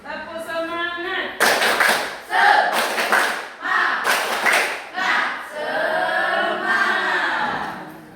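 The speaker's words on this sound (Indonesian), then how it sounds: "Ya, kita tepuk sama-sama, tepuk semangat dulu." A school class of eighth-grade students performs a rhythmic 'tepuk semangat' spirit clapping chant, loud group claps in patterned bursts mixed with chanted voices.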